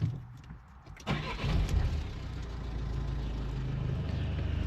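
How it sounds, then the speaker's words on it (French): A Peugeot engine cranks briefly and fires up, then settles into a steady, close, low idle rumble after an oil change, with no talk. "Démarre"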